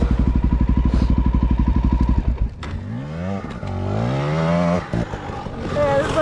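A motorcycle on a winter ride, first a rapid, steady thumping idle or low-speed engine pulse, then several rising and falling revs as it accelerates, loud and close, with a voice heard under the engine.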